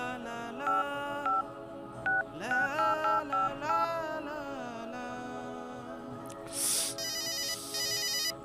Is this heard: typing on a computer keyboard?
no